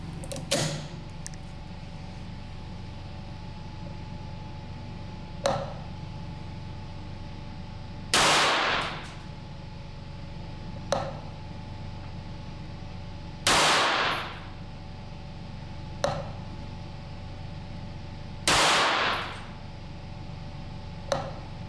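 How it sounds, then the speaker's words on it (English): A rimfire rifle firing Eley standard bulk cartridges, several sharp loud reports spaced a few seconds apart, interleaved with fainter mechanical clicks and creaks of the action being worked between shots. "Let's shoot the last 5 Eley cartridges"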